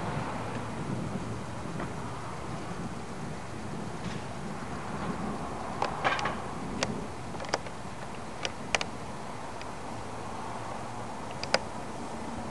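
Thunderstorm approaching Yakima, Washington from the south, with a constant low rumble of distant thunder and rain, broken by several sharp crackles and claps in the second half.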